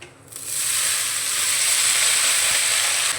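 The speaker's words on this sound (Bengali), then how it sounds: "এই সময় আমি দিয়ে দেব কেটে ধুয়ে রাখা পালং শাক" Washed, chopped spinach lands in hot oil with lightly fried garlic and hisses into a loud, steady, close sizzle that holds for several seconds with no talk.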